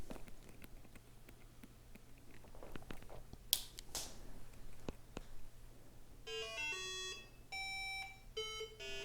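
A DIY Arduino metal detector switches on: a faint background hum and a few clicks, then a run of bright electronic beeps and tones near the end.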